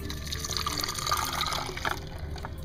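Red cabbage indicator solutions, one green and one pink, are poured together and mixed in a sink, giving a continuous close splashing and trickling of liquid.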